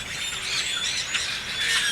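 A flock of grackles, small blackbirds, chattering in a dense, continuous wash of squeaky, creaking calls, steady and moderately near with no voices.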